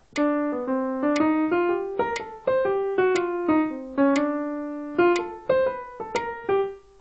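A keyboard plays the first phrase of a swung solo at tempo 60: a single melodic line of distinct, clear notes with long decays, about a dozen in uneven swung rhythm, alone and close.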